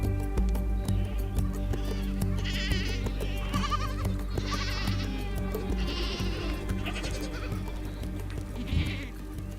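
Several goats bleat over and over in the Sahara among nomadic goat herders, with wavering cries rising above a steady low rumble and faint background tones, fairly close throughout.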